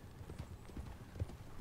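A horse's hooves clip-clop in the Red Dead Redemption 2 video game as the summoned mount arrives, a steady, evenly spaced trot of soft thuds at moderate distance over a low ambient rumble.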